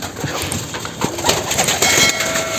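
Pigeons in a crowded village loft coo close by, mixed with scattered rustles, clicks and flutters from the birds moving around.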